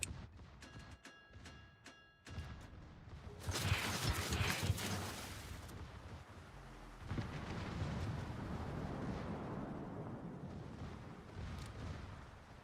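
High-explosive naval gun salvos in World of Warships, a few deep booming blasts followed by a long rumbling roar of shells and ship machinery, fairly distant and heavy, with no talking.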